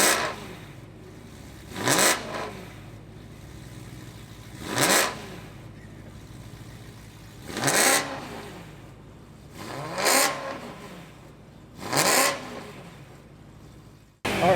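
A 2013 BMW E92 M3 with a six-speed manual and Valvetronic exhaust revs sharply five times at regular intervals. Each rev rises and drops back to idle, loud and close, with no talking.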